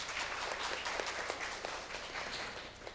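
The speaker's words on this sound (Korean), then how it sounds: "네, 박수 부탁드리겠습니다" A seminar audience gives steady, dense applause welcoming a panel moderator, former Samsung Economic Research Institute executive Kwon Soon-woo, at a Korea tourism panel discussion; the clapping holds even throughout.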